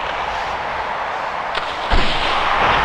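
In the EA NHL 98 hockey video game, a puck shot lands as one sharp thump near the end, cutting through a steady roar of arena crowd noise.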